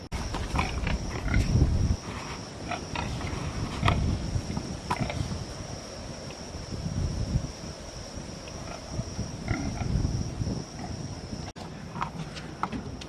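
Pigs are loaded onto a borrowed trailer on a Texas homestead, with scattered grunts and squeals, hooves thumping and scraping on boards, and clanks from the trailer, busy and close.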